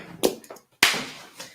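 A hand clap lands loud enough to clip the microphone: a sharp, close, harsh crack after a softer tap or two, trailing off into low room noise.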